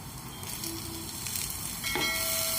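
Chopped tomatoes frying in a pan with coconut, garlic and ginger for chole masala, a steady close sizzle with light stirring scrapes and no talk.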